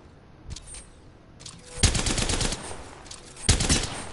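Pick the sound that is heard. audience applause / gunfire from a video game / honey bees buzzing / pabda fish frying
gunfire from a video game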